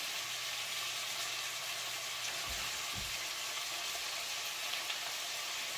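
Garlic sizzles steadily in a hot pan alongside fish and onions, a continuous bright frying hiss with a couple of brief low stirring bumps midway, close and without talk.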